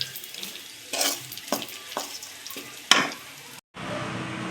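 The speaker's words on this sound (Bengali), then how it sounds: "বিট আর গাজর একসঙ্গে ভাজা হয়েছে" Beetroot and carrot fry together in a pan, a soft steady sizzle broken by several sharp stirring scrapes, ending in a brief pause before the sizzle resumes.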